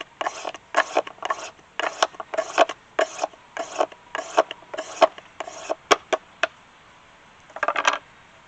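Rhythmic rasping strokes of a blade scraping bamboo into fire tinder, about a dozen quick, close scrapes in steady succession, a pause, then a short final burst.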